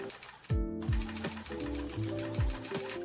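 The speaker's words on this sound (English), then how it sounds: "The other thing I really like is the responsiveness of the servos." Small servos on an Axial AX24 RC crawler whine in quick, repeated pitch-sliding bursts, faint and close, one movement after another with no talking.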